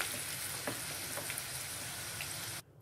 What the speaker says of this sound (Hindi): इस तरह से हम इसे फ्राई करेंगे ये देखिए आलू अच्छे से फ्राई हो गए हैं